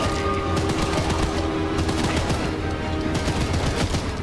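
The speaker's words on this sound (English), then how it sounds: "There we go, burst fire." Burst fire from a train-mounted gun in Choo-Choo Charles, rapid continuous machine-gun rattling, loud and close, with a dense mechanical clatter running without pause.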